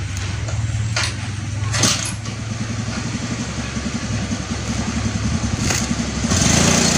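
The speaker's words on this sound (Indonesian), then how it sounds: "itu motor" A motorcycle engine runs nearby with a steady, throbbing idle that holds a constant pulse, with a few brief louder bursts and a slight rise near the end.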